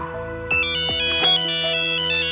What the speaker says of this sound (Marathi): ते तुमचा फोन वाजतो